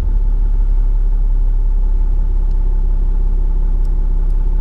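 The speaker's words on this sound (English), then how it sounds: "Land Cruiser 80 series turbo diesel, the ultimate zombie apocalypse vehicle." A 1995 Toyota Land Cruiser 80 series turbo diesel runs steadily, a loud, close, even low rumble with a constant mechanical hum and no talk over it.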